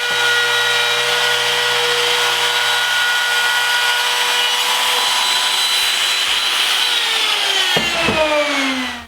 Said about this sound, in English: I'll put a round over bit in my router and run it over the top of the baseboard